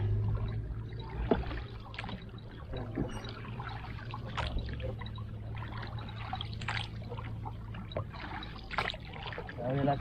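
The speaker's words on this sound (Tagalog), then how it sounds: "Mamaniobra natin yung ating bangka para makapunta tayo dun." A wooden boat is paddled across a fish pond, with soft watery splashes and trickles from the strokes recurring irregularly beneath a low steady hum, while people talk intermittently nearby.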